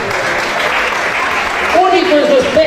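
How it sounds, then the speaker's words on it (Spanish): Applause from a circus show audience, steady dense clapping filling the space, joined near the end by a voice that rises over the crowd noise. "Fuerte el aplauso para recibir a nuestro diálogo"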